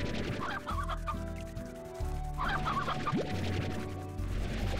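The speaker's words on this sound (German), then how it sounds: "da hinten laufen noch immer viele, viele Hühner rum" Chickens clucking in the video game Slime Rancher, a steady run of close, busy clucks and squawks over a low game hum, with no voices.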